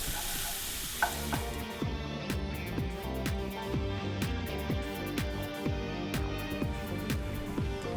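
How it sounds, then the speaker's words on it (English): Chopped shallots sweat in melted butter in a pan, giving a steady close sizzle broken by repeated scraping strokes of a spoon stirring them around, with no one talking. "we're just gonna get this butter going, throw in our shallots"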